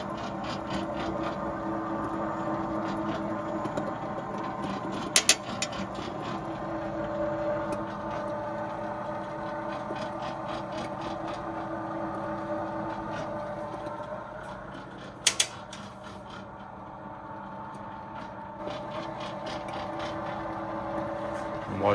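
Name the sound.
transparent cutaway engine turning, oil pump and timing chain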